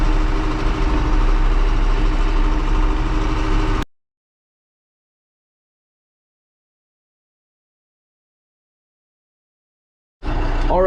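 A John Deere 6120e tractor engine drones steadily while driving, a close, continuous low rumble that cuts off abruptly into silence and briefly returns near the end.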